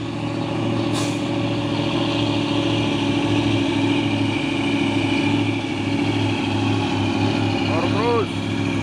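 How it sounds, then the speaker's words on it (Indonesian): Heavy traffic climbing the Bukit Kodok hill in the morning, with dump trucks such as a Fuso straining uphill: a steady, loud rumble of diesel engines continuing throughout, a brief hiss near the end, under intermittent talk. "Terpantau ramai lagi kendaraan yang berlewatan di tanjakan Bukit Kodok"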